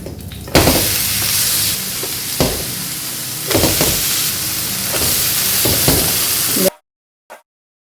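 Uthappam sizzles loudly in oil in a pan, a steady frying hiss broken by several scraping stir-like bursts as it is turned, then cutting off abruptly into near silence with one faint tap.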